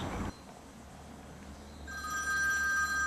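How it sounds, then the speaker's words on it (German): An indoor telephone bell starts ringing about two-thirds of the way in, a steady, moderately quiet tonal ring that follows a brief thump and low room hum. No one speaks. "Telefon!"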